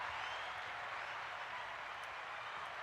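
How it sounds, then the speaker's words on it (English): An audience gives a round of applause at a dirt-track racing gathering. The clapping is faint and distant, a steady hiss of many hands that carries on evenly for a few seconds with no voices over it. "Round of applause for that."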